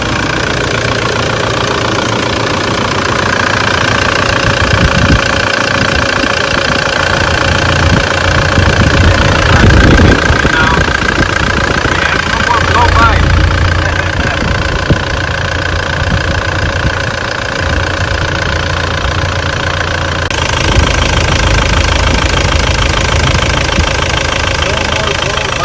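A 1KD diesel in a Land Cruiser Prado J90 idles steadily just after starting, its low knocking rumble running continuously and close for the whole stretch, with brief human voices over it.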